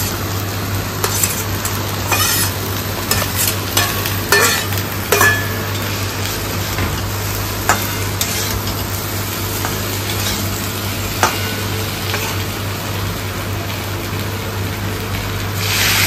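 Fish pieces frying in a pan with potatoes for a Bengali home-cooked meal, a steady loud sizzle with repeated scraping stirs of a spatula throughout, close by, with a constant low electrical hum underneath and no talk.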